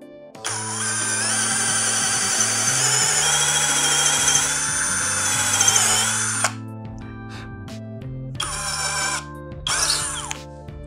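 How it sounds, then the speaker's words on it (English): A power drill bores a hole in wood with a clamped jig in a woodworking shop, a loud steady whine lasting several seconds, then two shorter bursts after a pause. "I'm going to use a clamp and drill the first hole."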